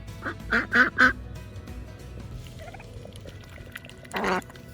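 Several loud duck quacks in quick succession up close at a homestead mud hole, then a quiet stretch with soft background noise and one more quack near the end.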